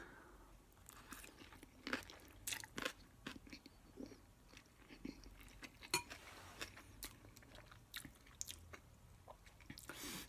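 A first bite of spicy Monster ramen is taken and chewed close up, with soft crunches, wet chewing and occasional utensil clinks against the bowl, faint and irregular, with no talk.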